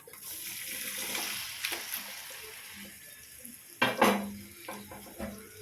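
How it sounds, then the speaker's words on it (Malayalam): Cooked pork tips into fried masala in a pan for an Angamaly-style pork fry, with a soft sizzle, wet stirring and a couple of louder clattering scrapes of a spoon against the pan. "ഇനി ഇതിലേക്ക് നമ്മൾ വേവിച്ച് വെച്ചിരിക്കുന്ന ഇറച്ചി ഇതിനകത്ത് ചേർത്ത് കൊടുക്കും"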